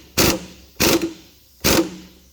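Three short, loud bursts from an impact wrench, evenly spaced about a second apart, tightening the upper strut mount on an 8th-gen 2006 Honda Civic Si, with no talking over them.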